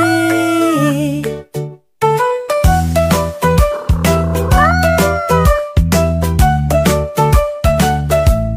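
A cat's meow is sung into a French children's nursery rhyme: repeated bright, pitched meows ride over bouncy backing music in a steady rhythm, loud and up front.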